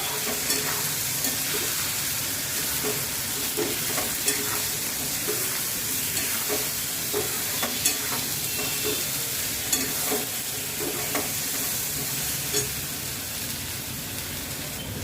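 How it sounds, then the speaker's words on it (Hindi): Red chilli and coriander powder are stirred into vegetables sizzling in a hot pan, a steady loud frying hiss broken by soft, regular scraping strokes of a spoon, with no talking. "अब मसालों को सब्जी में अच्छी तरीके से मिक्स करेंगे।"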